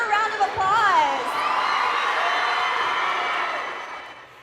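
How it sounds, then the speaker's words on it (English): A school student body cheers, whoops and shouts loudly in a dense crowd roar for a 7th and 8th grade science teacher receiving an excellence award, with high children's voices rising at the start before settling into sustained cheering that fades at the end. "Let's give her a round of applause"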